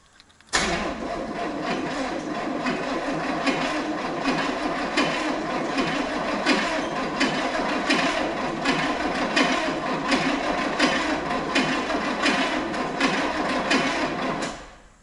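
The starter of a Chevrolet Camaro V8, unstarted for ten years after a barn find, cranks steadily and loudly for about fourteen seconds, with a fast, rhythmic mechanical churning close by; the starter sounds bad.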